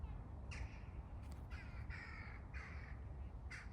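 Several harsh caws from a tame crow in a garden by dug-over rose beds, coming in separate bursts over steady outdoor background noise, fairly close.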